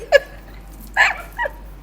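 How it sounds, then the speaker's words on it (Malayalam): A dog barks three times in short, separate bursts with gaps between them, at moderate loudness over quiet background hiss. "ആ പട്ടി ഒന്ന് കുറച്ചാട്ടെ,"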